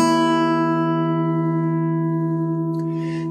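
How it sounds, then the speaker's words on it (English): Low and high E guitar strings struck together while out of tune with each other, ringing as one sustained chord that slowly decays, with a brief scrape near the end. "These strings are out of tune with each other, and you can hear that because of the clashing vibrations of their pitches, which creates a warbling, out of tune sound."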